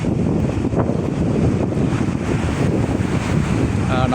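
Strong wind buffets the microphone beside the deep sea near a lighthouse, a loud, constant roar with surf and waves blended into the rumble, with no talking.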